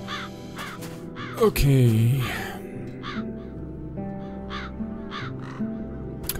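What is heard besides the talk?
crows cawing in video game Satinavs Ketten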